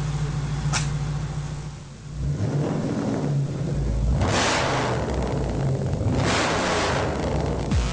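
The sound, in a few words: Holden Efijy car engine revving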